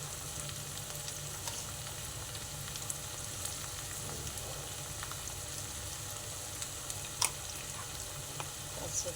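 Boiled potatoes frying in a pan for a green chilli curry, heard as a faint, steady sizzle with scattered small crackles and pops and no voices.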